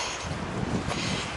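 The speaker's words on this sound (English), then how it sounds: "The wind has just about died down enough for us to speak for 5 seconds." Strong wind buffets the microphone on a Pacific Crest Trail hike, a loud, steady roaring rumble with no let-up and no voices.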